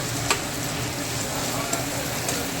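Chilli powder paste for a bitter gourd curry sautéing in oil, a dense, even sizzle with a few faint spatula taps, close and uninterrupted.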